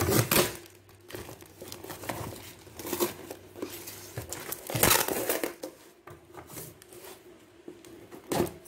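Plastic packaging of a cheap mystery box is torn and crumpled open with blunt scissors, close crinkling and rustling with sharp ripping bursts at irregular intervals, no talk.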